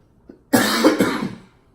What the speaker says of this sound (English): Told you about the cough.